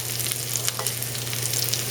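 Tri-color peppers sizzle and crackle steadily in a hot pan as they brown, a dense, even frying hiss with no talking.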